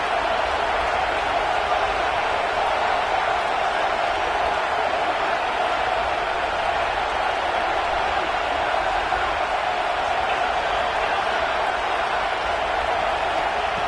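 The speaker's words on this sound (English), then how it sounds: "wow, listen to this crowd noise. This stadium is vibrating." Steady, roaring stadium crowd noise in a college football video game, a constant dense wash of cheering voices at a tough home venue, loud and unbroken throughout with no commentary.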